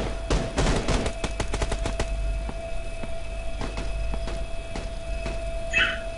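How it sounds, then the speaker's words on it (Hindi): Gunfire in the mobile game PUBG Mobile, on the Livik map in a ranked match. Sharp, loud bursts of shots crack in quick succession at the start, then sparser single shots follow at a distance. "मैं यहाँ पे लेट जाता हूँ क्योंकि सामने फायरिंग हो रही है।"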